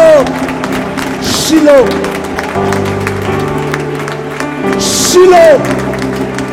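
Crowd applause and clapping at a French-language religious teaching, two short bursts of applause rising under loud speech and chanting from a speaker.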